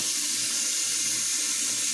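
Tap water runs steadily from a faucet into a sink, a continuous close hiss and splash with no talking over it.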